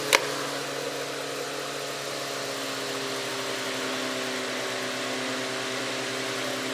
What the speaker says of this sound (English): I don't know what's rattling on this, but there's something that is rattling.